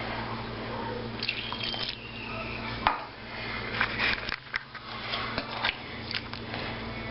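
Water poured and dripping into thick strawberry puree in a pot, with close splashing and clinks over a steady low hum, no talking.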